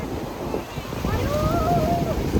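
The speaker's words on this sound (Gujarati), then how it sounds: "દરિયાના મોજા" Sea waves wash onto the shore at Dwarka at sunset, a continuous rushing surf mixed with wind buffeting the microphone and faint voices in the background.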